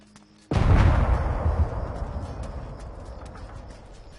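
A small IED detonates in ARMA 3 at moderate distance: one sudden heavy boom after a quiet moment, followed by a long rumbling decay that fades over several seconds.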